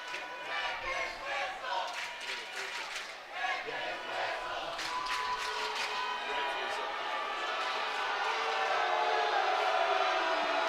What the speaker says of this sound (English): You can hear the crowd too